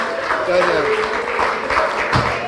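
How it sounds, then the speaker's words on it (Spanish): Audience applause at a stand-up comedy show, a steady wash of clapping running throughout while a performer's voice talks over it. "Fuerte el aplauso para Pedro"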